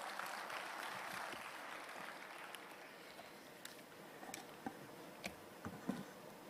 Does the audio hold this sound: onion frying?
no